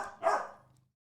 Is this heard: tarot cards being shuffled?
no